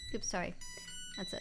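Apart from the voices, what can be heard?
phone alarm ringing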